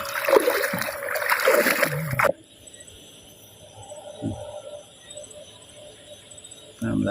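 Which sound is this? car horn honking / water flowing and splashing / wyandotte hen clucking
water flowing and splashing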